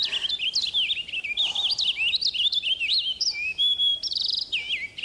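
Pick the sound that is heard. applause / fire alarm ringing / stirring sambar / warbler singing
warbler singing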